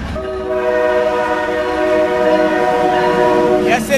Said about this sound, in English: This is the southbound train, train 97.